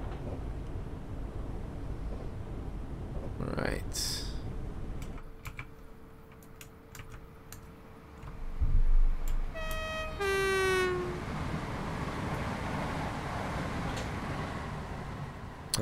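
A Class 442 electric train rushes past in Train Simulator 2016, a broad swooshing roar with a brief horn-like tone, then rolling rail noise continuing steadily afterward.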